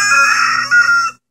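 Rooster crowing at close range in a backyard chicken setting, a loud single drawn-out crow that holds, rises briefly near the end, then cuts off into silence, with no talking.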